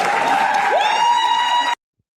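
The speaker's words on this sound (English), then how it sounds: "Please, can we welcome in and have a huge round of applause for Lois, Tyler, and Gabs." Applause from a studio audience welcoming cast members onto a chat show reunion, a steady dense wash of clapping mixed with a sustained tone, cutting off abruptly after under two seconds.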